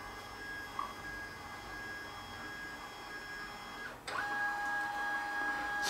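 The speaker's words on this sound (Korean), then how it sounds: "그 다음 스캔 누르면 스캔이 되는 소리가 들릴 겁니다." A Brother MFC-T800W inkjet printer scanning a document, a steady mechanical whir that keeps running with a sharp clunk near the end, then a higher tonal hum, heard up close in a quiet room.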